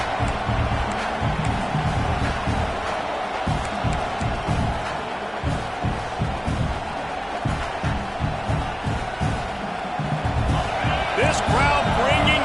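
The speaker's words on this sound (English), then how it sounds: "This crowd bringing the energy and noise early" A packed football stadium crowd roars in a loud, continuous wash of noise, rising and falling with cheers and whoops, under steady play-by-play commentary.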